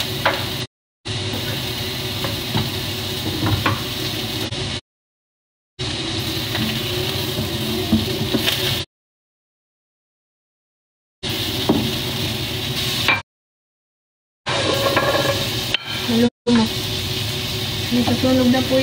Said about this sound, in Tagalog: Nasusunog na po yung bawang mo.